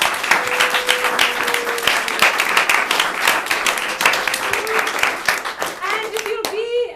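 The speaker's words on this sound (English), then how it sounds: "Let's also have a round of applause for Jay and Michael in the test group." A crowd claps and applauds steadily for several seconds, a dense patter of many hands that ends abruptly.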